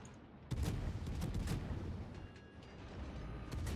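Naval gunfire from World of Warships: a sudden loud boom of a warship's guns, followed by rumbling echoes and mechanical clanks, with another report near the end.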